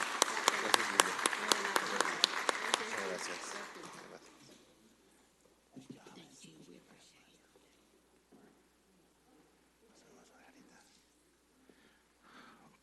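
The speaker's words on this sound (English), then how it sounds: "Let's give them all a round of applause." Audience applause at a city council meeting, a dense burst of many hands clapping for the first few seconds, then fading into a quiet room with scattered murmurs and faint voices.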